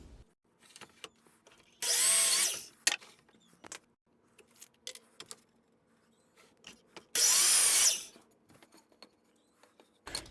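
Two short bursts from a power drill driving a screw into wood while building a rack, each whirring loudly for about a second, with scattered taps, knocks and handling noises in the quiet pauses between them.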